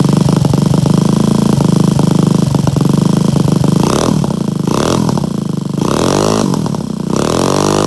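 A Honda Del Sol engine on its first startup after a build idles loudly and steadily, then revs up in several rising bursts, close by with no talking over it.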